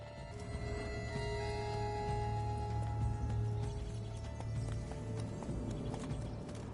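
Roach, Geralt's horse in The Witcher video game, clip-clops along at a steady trot with a whinny in the mix, the hoofbeats close and continuous over a low game ambience.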